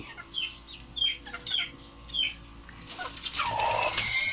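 Chicks and a mother hen in a backyard farm, clucking and peeping close by in repeated short bursts, with busier, louder fowl calls near the end.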